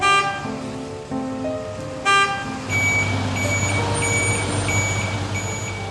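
A delivery truck reverses at a supermarket loading area, its backup alarm beeping in a steady repeated pattern over a low diesel engine rumble that grows louder midway, close by and with no talk.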